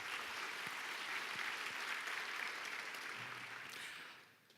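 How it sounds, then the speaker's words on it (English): An awards ceremony audience applauding, a steady, full roomful of clapping that holds evenly for several seconds, then fades out at the end. "Let's give one more round of applause for Angelica Janis"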